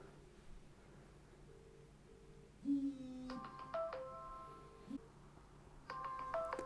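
A CAT S22 Flip phone on loud volume rings with an incoming voice call: a melodic electronic ringtone starts after a quiet stretch and repeats its bright tonal pattern clearly, with no talking.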